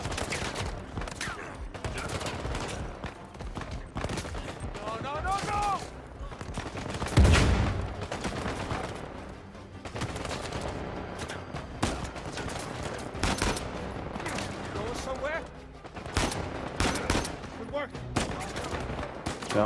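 Repeated gunfire in Uncharted 4 gameplay, with bursts of shots through the whole stretch and one heavy, loud impact near the middle, all mixed with game sound and occasional voices.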